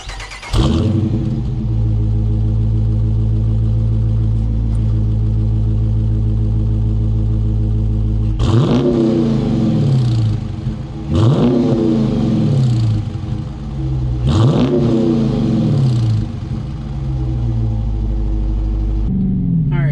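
A 2021 Dodge Challenger R/T V8 starts up and settles into a loud, deep, rumbling idle heard up close. Several sharp throttle blips rise and fall in pitch before the engine drops back to idle.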